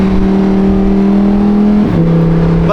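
A Lamborghini engine revs with a loud, close, steady droning note that shifts pitch once near the end, running alone without talk.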